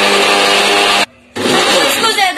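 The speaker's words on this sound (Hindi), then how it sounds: "अब हम इसको ग्राइंड करेंगे।" A mixer grinder blends banana, milk powder, vanilla essence and milk in short bursts, whirring loudly, stopping briefly for a moment of near silence, then running again.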